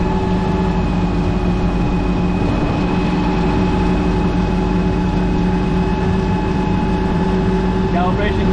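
Husky 12 foam pump engine on a fire apparatus running loud and steady, a constant heavy drone with a brief rising whine near the end.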